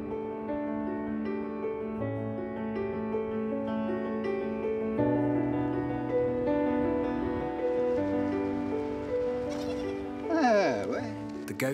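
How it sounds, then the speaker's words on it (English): Goats bleat repeatedly among herds roaming the Moroccan desert, with several overlapping wavering calls close by, some long and some short. "Goats roam from oasis to oasis, from rock to rock."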